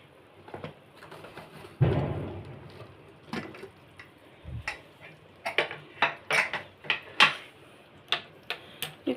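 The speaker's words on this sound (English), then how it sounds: "it's time for us to open the lid" A pressure cooker lid is opened after cooking broken-wheat dalia gravy with vegetables, giving a dull clunk followed by a run of sharp metallic clicks and clinks of lid and pot, close and fairly quiet.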